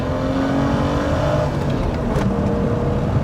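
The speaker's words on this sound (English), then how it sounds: "Driving the E30 325i." A 1986 BMW 325i E30 with its 2.5-litre engine drones steadily while driving, a loud continuous engine hum with road noise heard from inside the car.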